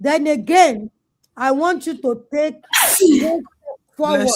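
A single loud sneeze bursts out in the middle of a man's ongoing speech to a group. It cuts sharply between his phrases.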